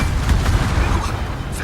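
Torpedoes striking an enemy destroyer in a naval battle game, heard as a dense, steady low rumble of booming impacts over a second and a half, loud and continuous with no clear separation between hits.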